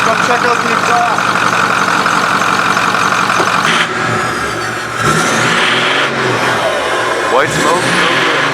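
A 6.4 Powerstroke diesel truck engine with cracked pistons runs loud and close at its exhaust, revving and easing back a few times, with voices talking over it.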